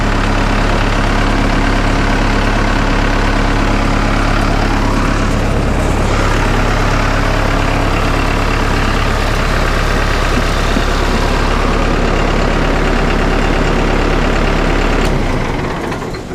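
A Vermeer machine's engine idles steadily and loudly for the whole stretch, a smooth, continuous heavy rumble with no voices over it, cutting off near the end.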